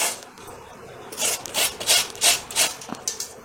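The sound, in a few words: grating amla (Indian gooseberries)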